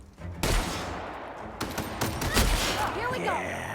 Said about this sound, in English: I'm going to shoot you with shotgun.